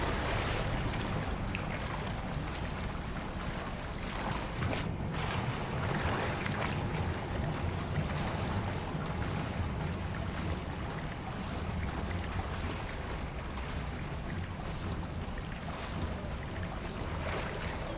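Water bubbling and churning in Hogwarts Legacy, a steady dense wash of watery noise with a wave-like, surf-like quality that runs unbroken for the whole stretch at an even, fairly loud level with no voices.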